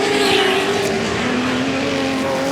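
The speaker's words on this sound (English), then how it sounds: "There's the glorious Ferrari LM." A Ferrari LM sports racing car roars past at Goodwood's Members' Meeting, its engine note loud and steady with a slight pitch shift as it sweeps by, no talk over it.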